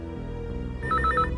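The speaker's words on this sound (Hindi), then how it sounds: "ये बजा तुम्हारा फोन।" A home landline telephone rings in a short burst of rapid electronic trills in the second half, clear and fairly close over a low background hum, with no talking.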